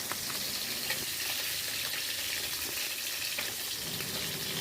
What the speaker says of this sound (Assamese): এইফালে মায়ে মাছ ভাজিছে